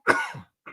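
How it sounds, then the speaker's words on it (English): A single sharp human cough, close and brief, from someone with a sore throat and a cold, followed by a short faint catch of breath. "I'm going to cough real quick"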